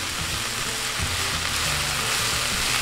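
Spinach wilts down in a hot pan, sizzling and crackling loudly and continuously at close range, with no talking.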